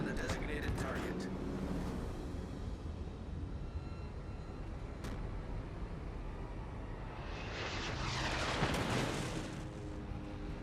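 Naval gunfire from warships in the video game World of Warships Legends: a few sharp shots at the start, then a long rumbling wash of battle noise that swells into a booming roar near the end, under faint talk.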